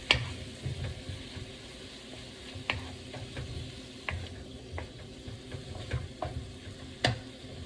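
Pepper steak frying in a pan, a low steady sizzle broken by intermittent metallic clicks and scrapes from a utensil, close and quiet with no voices.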